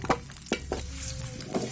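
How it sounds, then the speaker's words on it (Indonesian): Shallots and garlic sautéing in a pan, a short burst of sizzle broken by a few quick stirring scrapes, close and moderately loud, no speech. "pertama kita tumis dulu bawang merah dan juga bawang putihnya"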